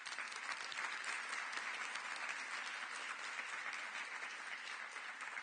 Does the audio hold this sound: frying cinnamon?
no